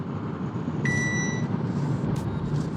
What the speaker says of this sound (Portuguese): ele é bem insistente, ó, vou sair aqui, ele vai apitar já, ó